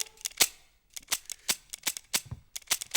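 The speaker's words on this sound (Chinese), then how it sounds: "你怎么真开枪啊" Sharp gunshot cracks ring out in a spy drama scene, with several short snapping bangs spaced irregularly over a quiet background and no voices.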